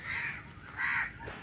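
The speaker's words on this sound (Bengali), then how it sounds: "অনেক পাখির ডাক তোমরা এখানে শুনতে পাবে" Crows caw outdoors at the Chingrighata fishery wetland, two harsh calls close together and fairly near, with no one speaking.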